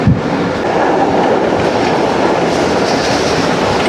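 Pak Business Express passenger train running on rails near Biria Road station between Rohri and Karachi, a steady loud rumbling roar with rhythmic clickety-clack from the wheels, continuous and close throughout.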